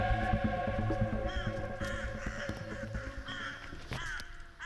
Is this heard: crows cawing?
yes